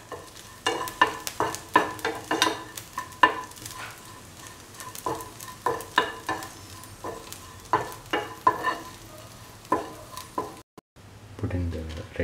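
Dried prawns sauté with salt in a pan while a spoon stirs and scrapes them in quick repeated strokes over a low, steady sizzle. The sound is close, and a brief pause comes near the end.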